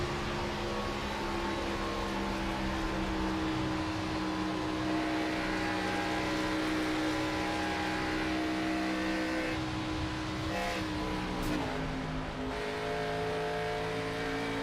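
A race car engine drones loudly at high revs at Auto Club Speedway, then the pitch drops as the driver lifts off the throttle near the end.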